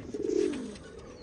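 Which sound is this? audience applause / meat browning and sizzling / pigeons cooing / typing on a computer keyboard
pigeons cooing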